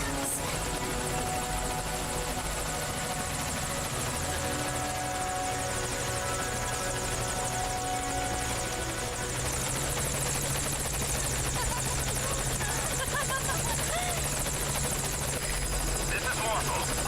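Military helicopter in the Metal Gear Solid video game, rotor throb and engine whine sustained steadily and loud throughout, with game voices speaking over it at times.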